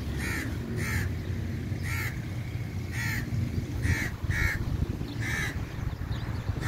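Crows caw repeatedly in an open park in DHA Karachi (Khayaban Bukhari Park), about eight sharp calls spaced through the clip over a steady low hum of the surroundings.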